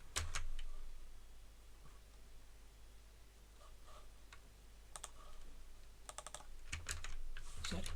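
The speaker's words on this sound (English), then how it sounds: "And I need an username." Quiet clicks of a computer keyboard as someone types, arriving in a few short, sparse clusters of taps against a low steady hum, with no voices.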